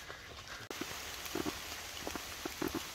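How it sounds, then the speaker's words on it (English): Steady patter of rain on the Appalachian Trail at the highest point of Berks County, with scattered drops tapping a nearby surface, no voices, a continuous soft hiss throughout. "Well, the rain's back a little bit."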